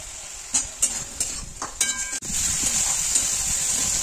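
Potatoes are stirred into spice masala fried with melted tomatoes, giving scattered scraping and clattering stirs over a steady, fairly loud sizzle of hot oil that holds for the whole stretch.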